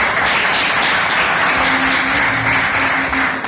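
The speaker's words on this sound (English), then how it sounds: "please give a round of applause" An audience at a Toastmasters club meeting claps steadily in a dense, even wash of applause, loud and continuous with no voices over it.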